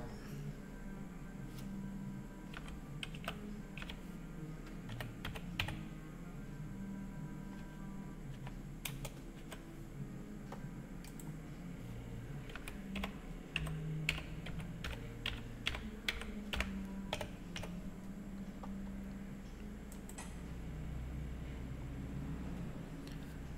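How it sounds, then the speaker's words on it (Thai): A username is typed on a computer keyboard as quiet, close key clicks in irregular bursts, continuing over a low background hum. "คลิกที่เข้าสู่ระบบนะครับ และเราก็จะพิมพ์รหัสผู้ใช้งาน"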